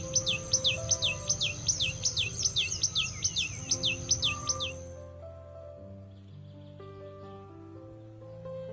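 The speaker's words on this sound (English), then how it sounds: "Birds wake up, all of them start singing their heart out in a dawn chorus." Birds sing in a spring dawn chorus, one bird close by repeating a bright, rhythmic series of sharp chirps for several seconds before it stops, leaving quieter calls and a soft outdoor background.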